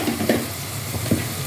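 Vegetables sauté in a hot pan for vegetable biryani, a soft, steady sizzle with a couple of faint stirring scrapes, close and alone.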